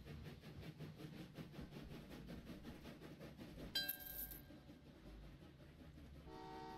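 A simulated railway in the Train Valley 2 game hums steadily with rhythmic rolling clatter, then a short horn toot sounds midway and another brief toot comes near the end, fairly faint.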